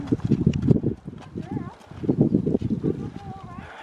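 Horse hooves clip-clopping on a trail, uneven steps of a horse being led up and down, close and fairly loud, with people talking over them.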